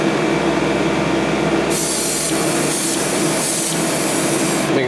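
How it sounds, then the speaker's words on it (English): An air vent fan running beside a miniature painting workspace gives a loud, constant airy whoosh, with a brighter hissing layer switching in partway through over the steady hum. "I am going to turn on my backwards fan here. Oh, my air vent."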